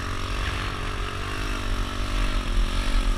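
A small pit bike engine runs steadily while being ridden outdoors on wet ground, a loud, close buzzing drone that rises slightly in pitch toward the end.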